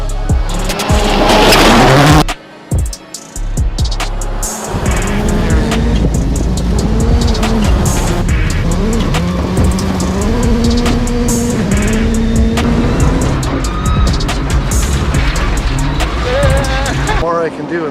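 A Subaru rally car racing, its engine roaring loud and close with steady revving and gear changes, tires squealing at moments, and a brief drop near the start.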